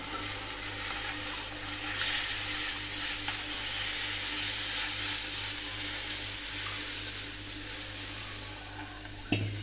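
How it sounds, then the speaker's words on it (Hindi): Gahat ras simmering and sizzling in a pan of fried spices, a soft, steady hiss over a low constant hum, fairly quiet, with a brief clatter near the end. "अब मैं इसमें रस को डाल देती हूँ"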